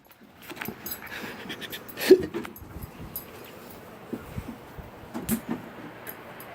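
A puppy whimpers and yips softly indoors near a German Shepherd, with faint panting and a few brief, quiet whines scattered over several seconds.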